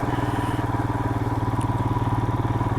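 Royal Enfield Himalayan motorcycle engine idling steadily nearby, a low even single-cylinder thump with a faint rattle, no talk.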